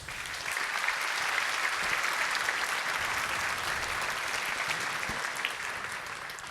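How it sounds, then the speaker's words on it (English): A large conference audience applauds at the close of a security talk, with dense, steady clapping filling the room and holding loud and even throughout before easing slightly at the end. "First of all, a big round of applause."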